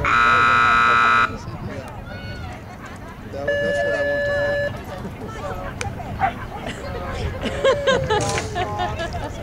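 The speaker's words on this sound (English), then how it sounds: "Too many buzzers." Electronic game-show buzzers sound during a gambling-themed game, with one long loud buzz at the start and a second sustained tone midway, while lively speech and crowd babble continue throughout.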